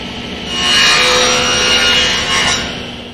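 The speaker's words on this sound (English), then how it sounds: "With the miter gauge swung around to 45 degrees, I'll make the 1 miter cut on each of the 4 pieces." A table saw cuts a 45-degree miter through a wooden piece, the blade ripping loudly for a few seconds with a broad hissing rasp that swells early and fades at the end.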